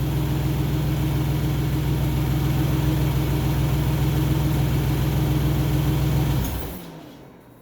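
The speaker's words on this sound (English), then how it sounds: "So now I'm going to shut the vehicle off." A 2002 Isuzu Trooper LS with the 6VE1 V6 idles with a loud, steady hum, then is switched off near the end, its drone dropping away quickly into near quiet.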